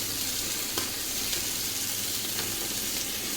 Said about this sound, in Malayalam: ഇനി ഇത് ഒന്ന് ഇളക്കി റെഡിയാക്കാം